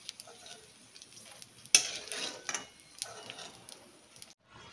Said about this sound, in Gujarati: આ જ રીતે આપણે બધો જ ગુંદ પહેલા તળી લેશું.